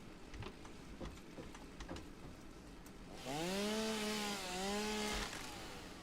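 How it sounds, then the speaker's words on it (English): Area-of-effect chainsaw in the video game Satisfactory cutting down trees: a few faint clicks and knocks, then a loud revving whine that holds for about two seconds, dips in pitch and cuts off. "With my area of effect chainsaw."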